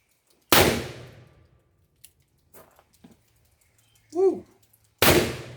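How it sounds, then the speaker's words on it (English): Two loud shots from an 1858 Remington black powder revolver, a Civil War era gun, fired about four and a half seconds apart, each with a sharp crack and a decaying boom, with faint handling noises between them. "So let's get some rounds down range."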